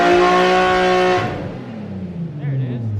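A street-tuned turbocharged Nissan 350Z revs hard on a dyno pull, the loud engine note climbing then dropping away after about a second, with a lower rumble trailing off under a voice.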